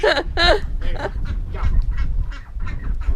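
A duck gives a run of loud, nasal honking calls close by, two strong blasts at first and then a string of rougher, quicker honks.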